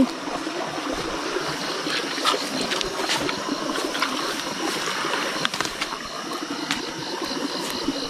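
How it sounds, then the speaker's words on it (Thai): A waterfall in the forest, a continuous rushing and splashing of water, moderately loud and steady, with small irregular spatters over the flow. "เสียงน้ำตก"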